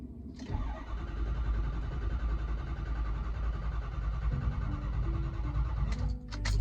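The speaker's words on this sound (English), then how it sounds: "after another bout of cranking, it's alive. It's running." A Ford Powerstroke diesel engine, old and hard to start, cranks and then catches, settling into a loud, steady running rumble that fills the clip, with a brief rise in revs near the end.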